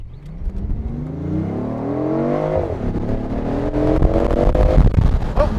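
A rental car in sport mode accelerates up a road in the Algarve, its engine note climbing steadily through the gears with a rising whine, loud and close from inside the cabin.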